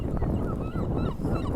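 A noisy flock of geese or ducks honking and calling over one another, close and continuous.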